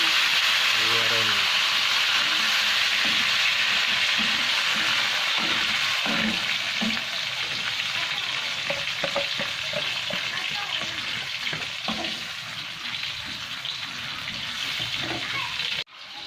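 Milkfish frying in a pan for Acehnese-style stir-fried milkfish with spice paste, a steady broadband sizzle running throughout, with clatter of stirring and faint speech over it.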